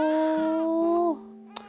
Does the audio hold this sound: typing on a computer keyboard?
no